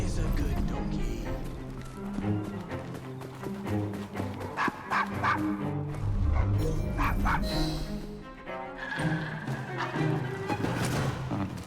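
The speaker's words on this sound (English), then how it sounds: "He's a good doggy." Dog barking and whimpering in the video game Assassin's Creed Syndicate, several barks and whines mixed into a busy game soundscape with music and voices throughout.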